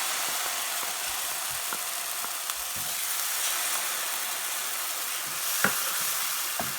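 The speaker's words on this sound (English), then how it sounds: "Now we'll add the blended mixed paste." Steady, fairly quiet sizzling and frying as a blended mixed paste hits hot cooked masala for shahi paneer korma, with a few faint clicks of stirring and no talk.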